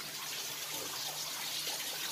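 Natural waterfall fed by a spring inside the Ciunetto mine, a soft continuous rush of falling water, steady and fairly faint with no voices.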